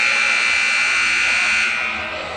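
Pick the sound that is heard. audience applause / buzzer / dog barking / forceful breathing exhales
buzzer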